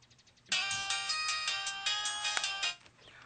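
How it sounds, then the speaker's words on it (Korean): A mobile phone ringtone plays in a radio drama, a bright repeating electronic melody that starts suddenly, rings steadily for about two seconds, then stops. "그리고 꽃들 앞에서 휴대폰을 꺼내 여자에게 전화를 걸었다."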